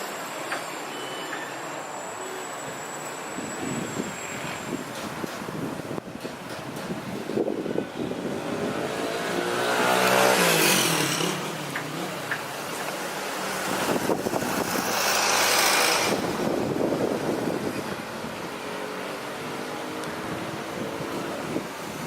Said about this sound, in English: all those motorcycles that you hear now